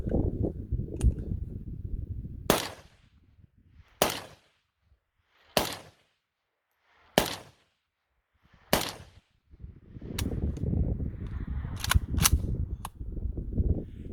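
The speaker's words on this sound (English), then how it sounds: "let's take these first 5 shots" A New Century Arms VSKA rifle fires at a target about 40 yards out: five sharp, loud shots spaced roughly a second and a half apart, followed by a few more, over outdoor background noise.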